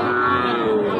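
A bull or cow at a cattle market where Sahiwal and Gir breed calves are sold lets out a loud, close, sustained moo lasting about a second.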